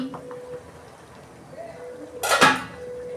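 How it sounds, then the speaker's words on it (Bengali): A lid comes off a pot of steamed hilsa on a gas stove with a short metallic clatter and scrape, close and fairly loud, after a quiet stretch of low background hum. "দেখুন বন্ধুরা আমি ঢাকনা খুলছি"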